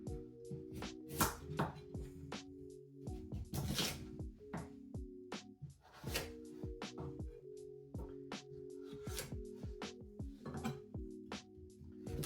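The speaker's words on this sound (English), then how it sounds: "chop the carrots, roughly the same size as" Carrots being chopped on a board for a village-style Bulgarian moussaka, with quick rhythmic knife strikes in irregular bursts and a few clinks of kitchenware between them, close by and fairly quiet.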